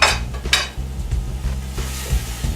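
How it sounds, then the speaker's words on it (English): Spoon stirring cumin, red chili flake and chili powder into browned chili meat in a pot for Texas chili, with scraping strokes against the pot over a steady low sizzle, near and fairly loud. "Give that a good stir."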